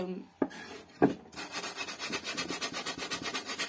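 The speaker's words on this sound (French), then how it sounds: "moi, je ponce en gros les petites arêtes" Hand sanding along the small wooden edges of a homemade birdhouse, a steady rhythmic rasping that follows a couple of sharp knocks, close and moderately loud with no talking.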